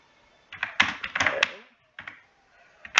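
Bursts of computer keyboard typing in a Linux terminal: quick clustered key clicks in two short runs separated by a pause, with one last tap at the end, close and clear.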